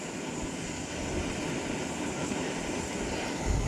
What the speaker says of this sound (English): The wind plays up with these flamethrowers a bit.